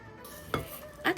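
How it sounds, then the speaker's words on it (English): Ground meat sprinkled with salt is kneaded with a spatula for gyoza filling, two short soft squelching presses against a bowl, close and quiet, with no speech. "knead the meat with a spatula"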